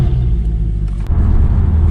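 A Mercedes C63 AMG V8 rumbles loud and close as the car pulls away, a deep, steady throbbing growl that holds evenly throughout with no one speaking.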